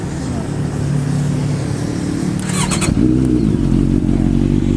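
A 2014 Honda CB650F motorcycle's inline-four engine idles loudly and steadily nearby, with a brief high rattle partway through before the rumble deepens.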